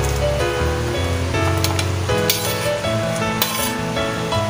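Chicken wings in coconut milk with string beans (sitaw) stirred in a pan, a steady sizzle and simmer with scraping and clinking under a continuous bed of background music.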